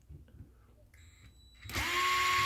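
A DeWalt 8V cordless screwdriver whirs up loudly and steadily while unscrewing at an electrical outlet, preceded by a few quiet clicks and handling sounds.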